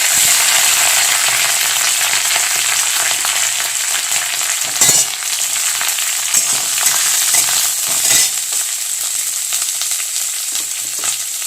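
Chopped onions and curry leaves fry on low heat in a pan for semolina upma, giving a steady, close hiss and sizzle throughout with a few stirring scrapes and clicks.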